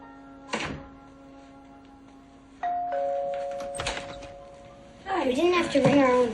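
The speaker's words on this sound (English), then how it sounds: "we didn't have to ring our own doorbell" A two-tone doorbell chimes once with a clear, sustained ding-dong close by, following a soft thump, after which voices start talking.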